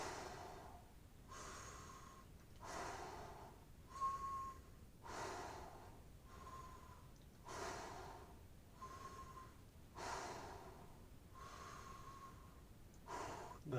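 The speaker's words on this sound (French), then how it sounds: "expire 6 fois par la bouche." Six forceful exhalations through the mouth during a fascia stretching exercise, each a breathy whoosh separated by quieter inhales, close and steady in rhythm, with no talking.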